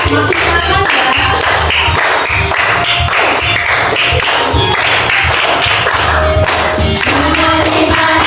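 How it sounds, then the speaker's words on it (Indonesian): A class sings a lively song about the food chain while standing, swaying and clapping, with a continuous beat of close hand claps running under the voices for several seconds. "sambil tepuk tangan."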